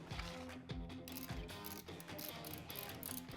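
A ratchet on a 5/8 socket loosens the oil drain plug on a Harley-Davidson Street Glide, giving quick close clicking bursts with short pauses between strokes, and no one speaks over them.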